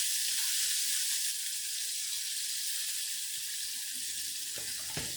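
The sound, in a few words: shallow frying marinated chicken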